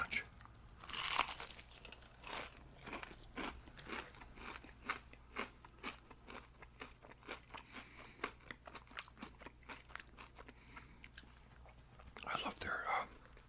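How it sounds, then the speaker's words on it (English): Close, whispery eating of spicy extra crispy fried chicken from Lee's Famous Recipe, with repeated sharp crunchy bites and chewing in an irregular rhythm, and a soft whispering voice at moments. "Check out this crunch."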